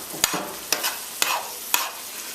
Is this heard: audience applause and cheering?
no